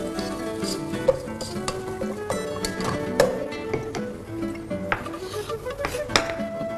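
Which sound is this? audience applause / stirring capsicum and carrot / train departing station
stirring capsicum and carrot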